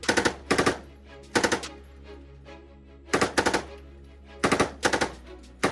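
Machine gun on an L4A1 tripod firing short, loud bursts of several rounds each, repeated at regular intervals with brief pauses between, close and sharp.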